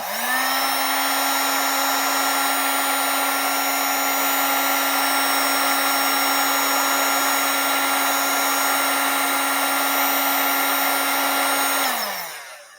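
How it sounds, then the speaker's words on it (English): A heat gun shrinking heat shrink tubing during ignition wiring on a 1992–95 Honda Civic, giving a loud steady blower whine close by that runs unbroken for about twelve seconds, then winds down at the end. "Got our heat gun."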